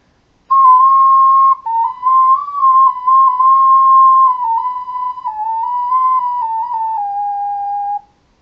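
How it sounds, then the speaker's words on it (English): An alto C ocarina plays a flowing extract of the Gerudo Valley theme from Ocarina of Time, a clear, pure, breathy tone moving through a lively melody in its higher range, up close and alone for about seven seconds. "That, of course, being an extract from the Gerudo Valley theme from the Ocarina of Time"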